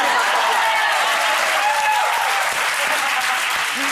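A studio audience on the TV talk show Loose Women applauds loudly and steadily, a dense wash of clapping that holds at full strength throughout.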